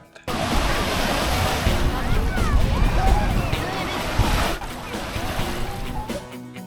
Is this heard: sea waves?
yes